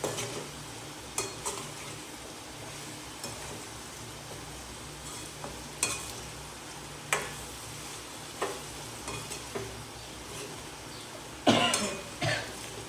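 Potato chips frying in hot oil as they are stirred in the pan, a steady low sizzle with scattered scraping clinks and stirring knocks, fairly quiet and without speech.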